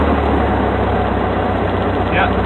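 Piston engine of a small training aircraft running at 1,000 rpm during a magneto check, a steady loud droning hum with a low even pulse, while people talk over it.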